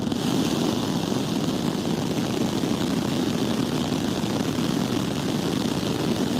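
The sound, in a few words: Starship Raptor 3 rocket engines firing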